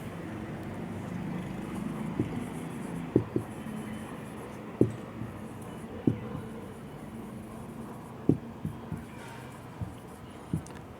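A marker or chalk taps and scratches on a board during an elementary English grammar lesson, giving scattered faint strokes and sharp ticks over a low room hum.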